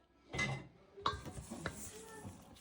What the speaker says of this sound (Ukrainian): відправляю цукор і потрібно перемішати